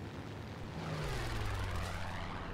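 Swedish propeller aircraft engines in War Thunder drone loudly overhead, a steady roar that swells and shifts downward in pitch as the planes pass, with no talking.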